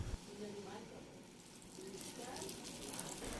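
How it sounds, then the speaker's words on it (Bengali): Tilapia pieces rubbed with turmeric and salt fry in two spoons of oil in a frying pan, giving a steady, moderately loud sizzle that grows brighter toward the end. "ফ্রাই প্যানে 2 চামচ তেল দিয়ে প্রথমেই মাছগুলোকে ভেজে নিব"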